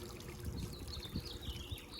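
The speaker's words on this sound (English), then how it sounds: "Here's the waterfall." Water spills over a small backyard waterfall and trickles steadily with a quiet splash and gurgle, faint and constant, with no talking.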